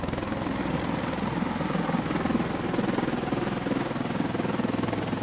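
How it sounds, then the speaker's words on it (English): Rotors of a V-22 Osprey tiltrotor aircraft run in helicopter mode with the nacelles vertical. They make a loud, continuous, pulsing drone with a steady beat throughout, and no voices are heard. "It typically operates as a helicopter with the nacelles vertical and rotors horizontal."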